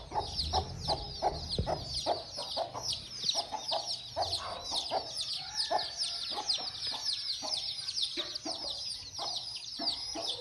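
Hens and chicks on a farm cluck continuously, with rapid overlapping high peeps from the chicks and lower clucks from adult birds, close and steady throughout.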